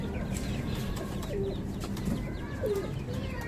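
Two chickens squabble at close range in a backyard coop in a Karachi village-style setting, with clucks and short squawks over a steady noisy background, while a dove's coo may also sound among them.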